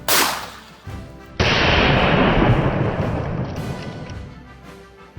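A sharp, loud gunshot fired at a metal padlock, a single crack followed by a long ringing, noisy decay, with an earlier fainter impact just before it.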